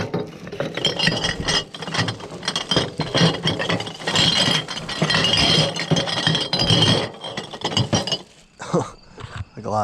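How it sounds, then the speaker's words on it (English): Glass bottles clink and rattle continuously while scrap, bottles and cans are collected on a bike, a dense jumble of clattering knocks for about eight seconds that thins out near the end. "The glass is always so loud."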